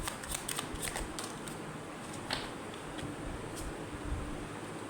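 Tarot cards being shuffled by hand, a steady close papery riffle with a few sharper flicks and snaps, continuous and fairly soft, with no voices.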